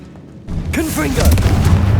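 A Confringo blasting spell explosion from Hogwarts Legacy lands in a heavy, rumbling boom with crackling debris, loud and close, over game effects and a brief voice.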